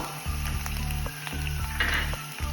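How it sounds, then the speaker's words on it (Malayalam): Ginger, shallots and garlic fry in a pan for a meat dish, a steady loud sizzle running throughout with repeated scrapes and knocks of a spoon stirring at a regular pace, no voices. "നമ്മൾ തിളച്ച് വെച്ചിരുന്ന ഇഞ്ചി കൊച്ചുള്ളി വെളുത്തുള്ളി ഇത്രയും ചേർത്ത് നന്നായി ഇളക്കി കൊടുക്കുക"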